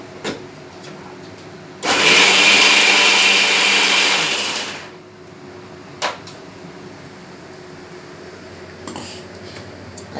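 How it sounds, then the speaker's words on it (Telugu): Kitchen mixer grinder whirring loudly and steadily for about three seconds while grinding ridge gourd chutney with tamarind and lemon, then stopping and leaving a few faint clicks and knocks. "ఒక్కసారి చుట్టూ తిరగండి బాగా మిక్సీలో"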